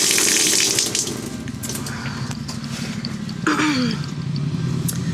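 Water from an outdoor shower fed by an overhead tank at a motorcycle rally campsite, a steady close splash and gush that shifts in tone partway through, with a brief vocal sigh and no talking.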